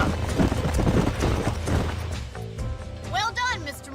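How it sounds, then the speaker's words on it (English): Horses trotting in the video game Red Dead Redemption, a rapid, loud clip-clop of hooves close by, then a high whinny near the end. "These are fine horses."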